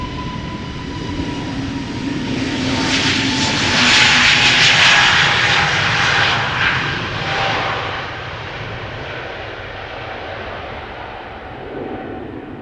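An SAS Airbus A320neo jet departing Amsterdam Schiphol for Stockholm, engines swelling to a loud close roar with a whining tone, then fading steadily as it climbs away.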